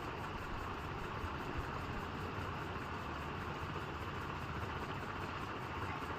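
A sewing machine runs straight stitching along the folded hook strip edge of a blouse, a steady, even mechanical whir that holds unbroken throughout at low volume.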